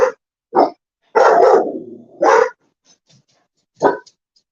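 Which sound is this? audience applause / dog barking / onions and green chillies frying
dog barking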